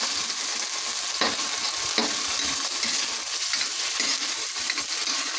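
Canned Mega sardines are mashed in a pan for kilawing papaya, a steady hissing sizzle with a few soft scraping knocks from the utensil.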